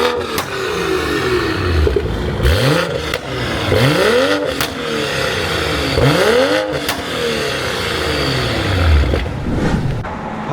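A car engine revs through an aftermarket Megaflow exhaust, climbing and falling in repeated throttle blips with a loud, close, rasping note and some mechanical clatter, with no voices.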